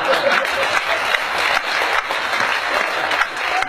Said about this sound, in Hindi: 2-3 लोग ताली बजाइए